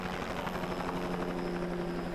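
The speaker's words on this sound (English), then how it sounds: "a helicopter flew over the orchard all morning to try and bring that warmer" A helicopter flying low over rows of fruit trees at an orchard during a freeze, a steady loud rotor drone with a fast chopping pulse, continuous throughout.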